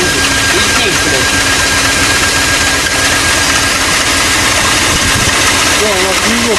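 BMW E38 with an M60 V8 idling with a squeak, a loud, close, steady engine drone with a faint recurring chirp, while people talk over it.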